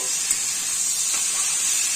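Vegetable fritters and a curry of pumpkin and bottle gourd sizzle steadily in oil in a kadai, a bright continuous frying hiss heard up close with no voices.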